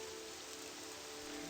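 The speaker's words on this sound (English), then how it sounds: "And it always is raining!" Steady rain in the video game Morrowind pours evenly as a dense, constant hiss with no voices or other sounds.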